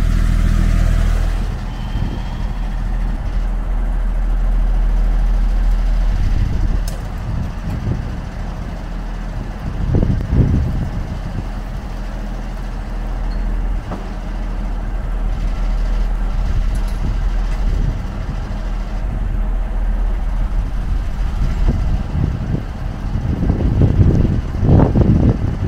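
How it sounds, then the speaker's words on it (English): A petrol generator runs outdoors with a steady low drone, heard close and fairly loud, with occasional thumps and rustles breaking through the constant hum. "the generator will get a 20-minute workout"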